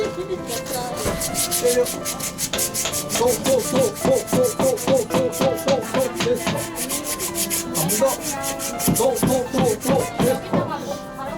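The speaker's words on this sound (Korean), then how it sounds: "이렇게 딱 잡고 이렇게 쓱쓱쓱쓱쓱 이렇게 문질러 주세요" Rhythmic rubbing and sanding strokes on wood while a wooden hammer is made at a craft workshop, a steady run of quick scraping passes close up, with no talk.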